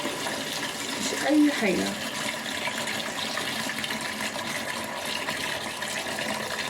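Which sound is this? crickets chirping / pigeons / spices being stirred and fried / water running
water running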